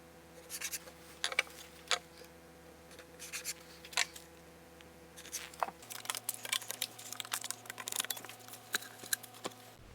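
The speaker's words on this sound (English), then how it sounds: "I'm going to take my square and a pencil, and I'm going to transfer the lines just a little bit down on this side" A pencil draws lines across a wooden drawer panel, guided by a square, producing repeated short scratchy strokes in quick bursts, close and fairly clear over a low steady hum.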